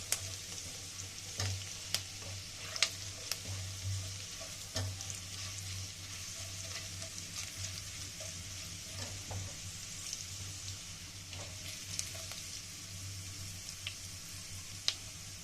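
Garlic frying in oil for a homemade tomato sauce crackles in a steady, close sizzle, with occasional sharper pops and spoon scrapes across the pan for about fifteen seconds, with no voices.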